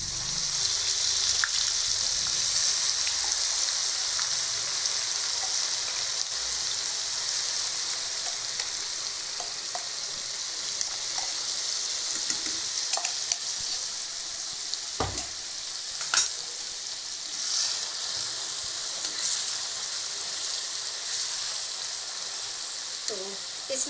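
Masala paste of red chilli, coriander, garlic and onion sizzles steadily in a pan of browned onions, a constant hiss with occasional stirring scrapes and taps throughout.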